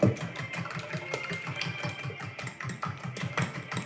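Whisk beating a mixture with orange juice in a bowl, a steady fast rhythmic clatter of repeated strokes, close and continuous throughout.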